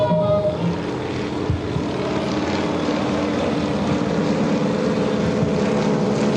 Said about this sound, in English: Seven-cylinder radial piston engines.